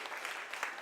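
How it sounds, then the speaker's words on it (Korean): Applause from an audience at a Korean history museum talk concert, a brief, steady wash of many hands clapping at moderate volume, with no clear voices over it. "박수."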